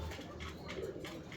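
Arabian fancy pigeons in cages on a farm cooing softly, faint repeated low coos in a quiet setting.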